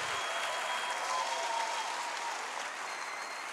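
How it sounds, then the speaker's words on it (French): Sustained applause from a church conference audience, a steady dense clapping wash that fills the space evenly from start to finish with no voices on top. "Je veux que tu l'applaudisses comme tu ne l'as jamais fait."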